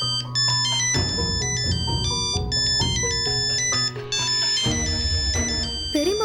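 A melodic phone ringtone plays continuously, bright repeating electronic tones in a looping tune, loud and close with no voices over it.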